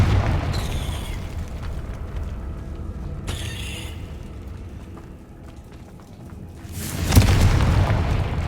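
A Confringo explosion spell from Hogwarts Legacy goes off with a loud burst near the end, preceded by low rumbling game ambience and brief magical swooshes.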